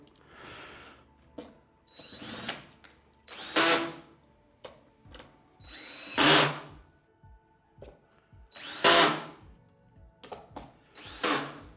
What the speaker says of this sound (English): I'm using our drill with a posi bit